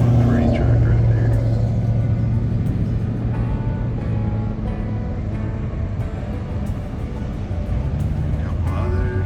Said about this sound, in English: you see that pretty red truck? You look at it slowing down